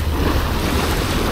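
Loud, continuous roar of sea waves and surf at a beach, with heavy wind buffeting the microphone and no voices.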